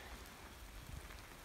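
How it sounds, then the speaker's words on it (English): Light rain falls at a lakeland canoe campsite in Alberta as a thunderstorm tapers off, making a soft, continuous patter of drops on surfaces, faint and steady. "A little bit of rain, didn't rain too bad. Just starting to slow down now."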